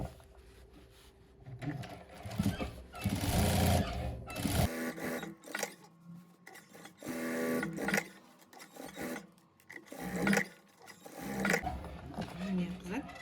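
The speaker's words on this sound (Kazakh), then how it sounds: "енді келесі жағын тігеміз" A sewing machine runs in uneven bursts while stitching a fabric potholder made from scrap cloth, its rapid mechanical whir close by and stopping and starting, with someone talking over it.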